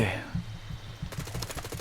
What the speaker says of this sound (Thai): เสียงปืนกับเสียงชัดขนาดนี้ อยู่ไม่เกินร้อยเมตรหรอก